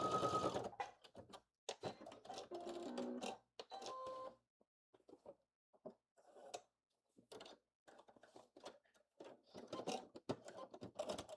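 A home sewing machine back stitches a blazer sleeve in short, stop-start bursts of quick mechanical whirring and clicking, with quiet gaps between the runs.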